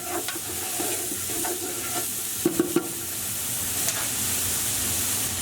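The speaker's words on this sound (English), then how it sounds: "Once your oil is hot, we're going to add our onions straight in. And we just want to fry these until they're nice and brown." Onions frying in hot oil for Persian khoresht-e gheimeh, a steady close sizzle and hiss with a few sharp stirring scrapes and clinks partway through.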